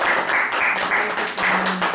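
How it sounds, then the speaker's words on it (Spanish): An audience at a book presentation gives brief applause, a dense steady patter of clapping at close range that continues for a couple of seconds. "Aplausos que le den."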